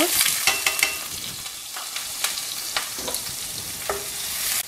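Onions tossed into hot oil with popping mustard seeds and cumin for cauliflower poriyal, a continuous crackling sizzle with stirring scrapes and a few distinct pops, close and without talk.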